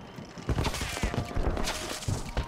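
Fireworks going off in Batman Arkham Asylum, a rapid string of sharp cracks and pops in irregular bursts, fairly loud and close, with no talk over them.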